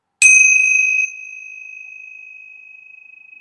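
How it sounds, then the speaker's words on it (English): A tingsha bell used for energy clearing is struck once, giving a bright, clear ding whose pure tone rings on and fades slowly in otherwise silent surroundings. "I'm just going to bring a little bit of tincture bell clearing into the space."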